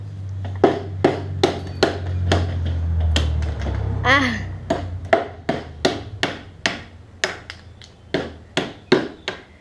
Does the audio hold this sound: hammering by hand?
yes